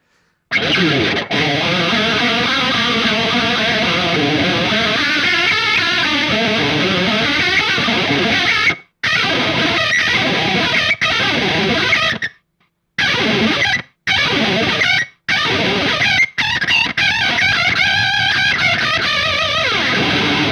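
Heavily modulated, warbling electric guitar through an MXR Analog Chorus pedal set to a high rate, a fast wobbling chorus effect playing for a long stretch, cutting out briefly several times.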